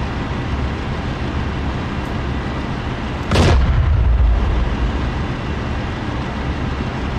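An infantry fighting vehicle's gun fires in the combat simulator DCS World, one sharp heavy boom followed by a low rumbling decay over a constant background hum.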